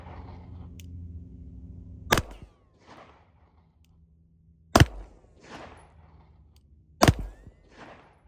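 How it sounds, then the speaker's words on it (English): Three sharp, loud pistol shots from a Glock fitted with a red dot sight, spaced a few seconds apart at close range, each followed by a brief echo and quiet rustling in between. "here are my first handful of shots for the day"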